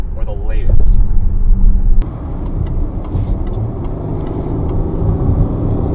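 A 2016 Range Rover HSE Td6 diesel engine hums low and steady while accelerating on a highway, heard from inside the cabin as a constant rumble with road noise and a brief gear change, while someone talks over it.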